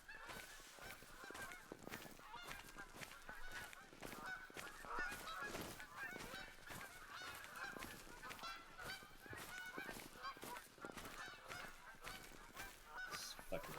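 Flock of geese honking in The Hunter Call of the Wild, a dense, continuous chorus of overlapping calls, fairly quiet and distant-sounding, with no talk over it.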